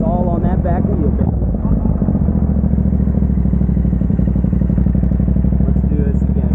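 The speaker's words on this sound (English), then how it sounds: "I'm just doing little pops, little dumps of the clutch to feel how much bike" Motorcycle engine in first gear rumbling steadily and loud up close, with small revving surges as the clutch is popped and dumped for a wheelie attempt, a voice talking over it at the start.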